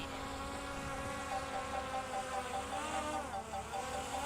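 DJI Mini 4 Pro drone propellers spinning up at takeoff, a continuous buzzing whine with steady harmonic tones that shift pitch slightly as the motors change speed, fairly close and alone.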